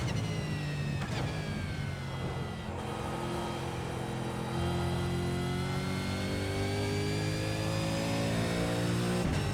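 A revving race car engine in the iRacing video game drones continuously, its pitch climbing and settling as it accelerates on cold tires, with a brief sharp knock near the start.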